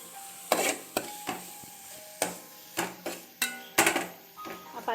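Chicken fried rice with celery is tossed in a pan over a soft sizzle, with a series of sharp, irregular metal spatula clanks and scrapes against the pan, about ten strikes close up.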